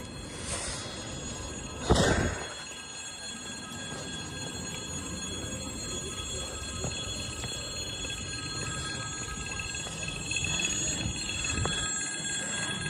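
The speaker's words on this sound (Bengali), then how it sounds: "ট্রেন স্টেশনে কোনো গেটম্যান থাকে না, যখন ট্রেন আসে এরকম ট্রুং ট্রুং করে সিগন্যাল দেয়।" A train arrival warning bell rings at a Moscow railway station crossing, starting with a sharp ringing burst, then running as a steady trilling tone over a continuous rumble of the station and passing rail traffic.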